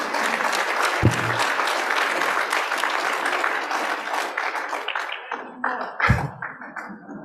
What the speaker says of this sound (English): why don't you stand up and take a round of applause